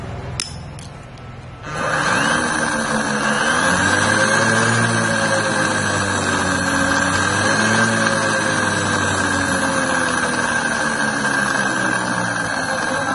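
A 48V 1000W geared electric motor starts up after a few brief knocks, then runs with a steady loud whine and hum, its pitch wavering slightly as it keeps spinning alone.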